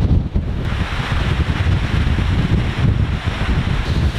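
Strong wind gusts roar over the microphone outdoors in the Joshua Tree desert, a loud, continuous rushing buffet with no voices.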